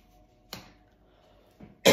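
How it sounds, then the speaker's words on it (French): A person coughing, with two short sharp coughs spaced apart and a stronger burst at the end, close and fairly loud over a quiet background. "Excusez-moi, je tousse encore un peu."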